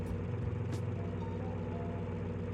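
A drag car engine in BeamNG held on the trans brake rumbles at a steady, loud idle-like drone with a pulsing low throb, briefly punctuated by a short hiss.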